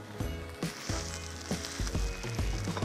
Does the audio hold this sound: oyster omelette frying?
yes